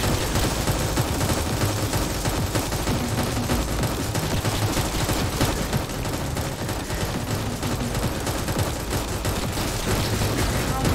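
Turret gunfire from a tower defense video game, a dense, continuous barrage of rapid shots that stays loud and steady the whole time, with no pauses.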